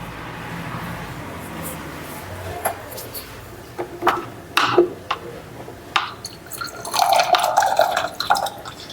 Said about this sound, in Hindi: 2 मिनट मैं एक बार पानी पी लूं।